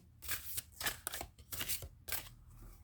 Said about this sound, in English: I think I can better shuffle them this way.